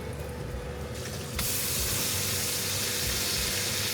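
A steak sizzling in a pan with butter; a soft hiss swells suddenly into a louder, steady, bright sizzle that carries on to the end.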